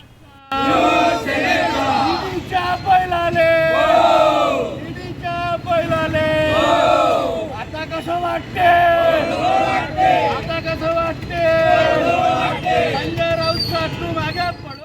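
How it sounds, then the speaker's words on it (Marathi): Shiv Sena Thackeray-faction supporters in Amravati celebrate with loud chanted slogans against Eknath Shinde, Devendra Fadnavis and the ED, a crowd of voices shouting in repeated rhythmic bursts, close and sustained. "घोषणाबाजी करून हा जल्लोष करण्यात आला"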